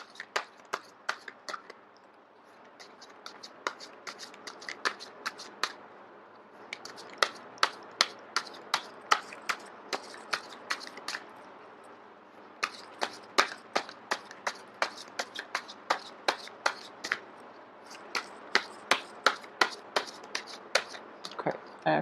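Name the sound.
shuffling a deck of cards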